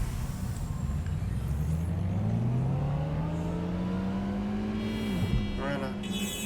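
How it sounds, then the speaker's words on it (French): A car engine in Watch Dogs Legion revs up in one long, rising sweep. The pitch drops off abruptly near the end, and the engine stays fairly quiet with no talk over it. "Belle petite caisse. Avec un joli moteur."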